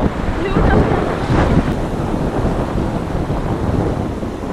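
Steady roar of waves washing onto the shore of Chilika Lake, with strong wind rumbling across the microphone throughout; no talking.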